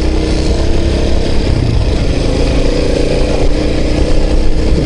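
A moped engine drones loudly and continuously while riding enduro on rough ground, a close, steady mid-pitched motor hum with slight surges and no break.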